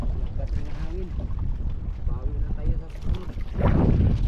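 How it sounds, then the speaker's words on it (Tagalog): Gusty wind buffets the microphone over lapping water and boat noise, with people talking nearby; a louder rumbling gust surges near the end. "Paglakas rin yung hangin"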